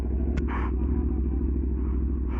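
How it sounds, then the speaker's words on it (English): A pink BMW car engine idles low at low RPM, a steady close rumble running throughout with a brief bright click near the start. "Sounds like a BMW."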